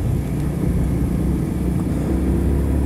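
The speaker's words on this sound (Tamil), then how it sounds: "நல்லா ராவான ஒரு எக்ஸாஸ்ட் மட்டும் ராவான பவரு நல்லாவே வண்டியில் வந்து ஃபீல் ஆகுது" A Yamaha R15 motorcycle's exhaust drones steadily while it is being ridden. The low, rough engine rumble stays constant throughout, mixed with wind noise.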